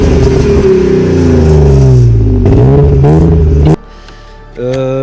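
A BMW E36 with a six-cylinder engine revs hard and loud up close, the pitch climbing and wavering through several rises before the throttle drops back to a lower idle-like hum.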